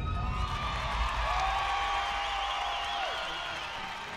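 Loud, sustained crowd ovation at a college gymnastics meet in the Marriott Center, a broad wash of applause and cheering with scattered whoops that fades slightly toward the end.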